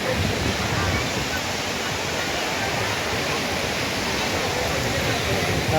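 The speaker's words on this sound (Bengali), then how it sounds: "আমরা দীঘা চলে এসেছি, মানে সমুদ্র সৈকতে চলে এসেছি" Waves break on the sea beach at Digha in a continuous broad roar of surf that is loud and close, with faint crowd noise mixed in.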